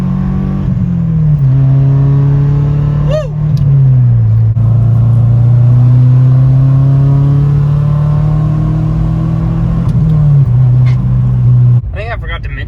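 A Subaru Forester with 200,000 miles revs hard toward redline, its loud, close engine note climbing through long pulls, dipping briefly between them, then cutting off near the end.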